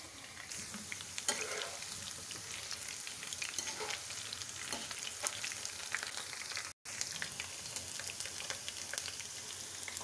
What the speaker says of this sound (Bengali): এভাবে আমি দ্বিতীয় বেচও ভেজে নিচ্ছি